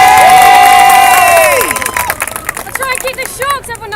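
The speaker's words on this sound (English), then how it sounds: "Round of applause for Esme!" Outdoor crowd at a street-side speakers' corner event cheers and claps loudly over a sustained shout, then the noise breaks into scattered claps and voices.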